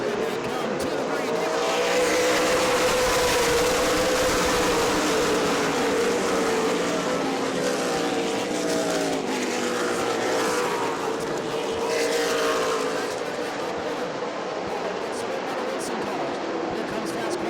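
Race cars roar toward the green flag at New Smyrna Speedway, a dense, loud pack of engines droning steadily with rising and falling pitch as they pass, under continuous commentary.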